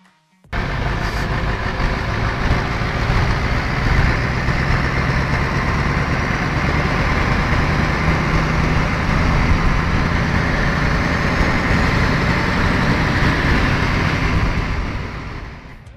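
A Mercedes-Benz OH1634 bus with an 11,000 cc OM44A V8 twin-turbo diesel engine runs steadily at idle, a loud, close, continuous low rumble that starts abruptly and holds for about fifteen seconds before fading slightly.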